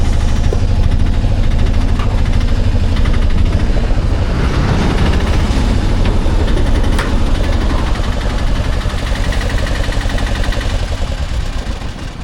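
A 2026 Ape Classic auto-rickshaw engine runs loud and steady throughout, a close, rough, vibrating drone with no talking over it.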